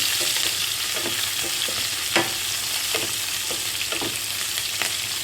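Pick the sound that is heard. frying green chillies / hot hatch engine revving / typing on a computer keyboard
frying green chillies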